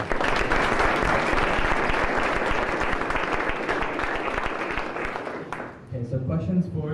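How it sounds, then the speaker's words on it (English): A conference audience gives a dense round of applause, steady clapping for about five seconds before it dies away and a voice begins speaking. "Round of applause."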